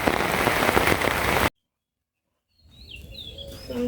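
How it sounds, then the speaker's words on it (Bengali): Rain falls steadily in a village, a dense loud hiss for about a second and a half before it cuts off, then after a pause softer outdoor ambience returns with birds chirping. "বৃষ্টি ভালোই নাম চাল"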